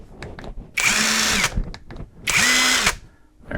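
A GoYwato 21V cordless brushless impact driver with a 1/4-inch hex chuck runs in two short bursts, a loud whirring whine at close range with a quiet pause between them.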